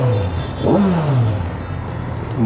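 Kawasaki Versys 1100 inline-four motorcycle engine accelerating, a steady ride hum that rises in a sweeping pitch climb near the start, then falls and settles into a continuous drone, close and loud.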